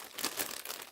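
Plastic bags crinkle and rustle in a quick close burst as craft supplies are repacked, soft and brief with no talking.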